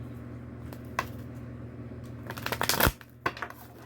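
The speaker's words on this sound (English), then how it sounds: "I usually do a little cut and shuffle before I clear." A deck of cards is shuffled up close, a few scattered flicks building into a quick riffling burst, then a couple of soft taps as it settles.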